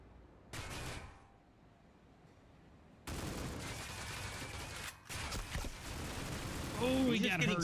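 Automatic rifle fire and wallbang shots in a professional esports shooter match at a grand final, arriving in bursts of rapid gunfire under excited commentary, with a loud dense stretch near the end.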